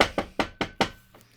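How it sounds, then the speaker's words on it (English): Five sharp, evenly spaced knocks on a wooden door ring out close and loud in quick succession, followed by a faint sixth tap and silence. "Fred knocked on the door."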